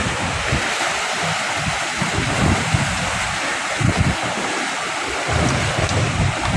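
Heavy surf churns against a seawall on Manila Bay, a dense, unbroken wash of water with repeated swells breaking nearby and gusty wind rumbling across the mic.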